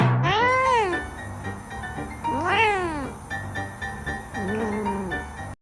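A cat meows loudly three times in long, rising-and-falling drawn-out cries, close to the listener, with short gaps between each call and a faint background hum.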